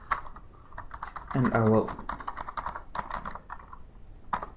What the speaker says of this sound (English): type the text happy birthday